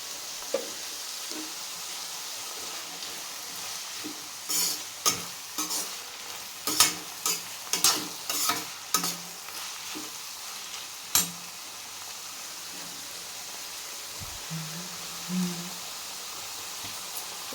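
Sliced onions frying in a pan with a piece of cinnamon and a clove, salted, under a steady low sizzle with a series of sharp scraping stir strokes through the middle, close and alone with no talking.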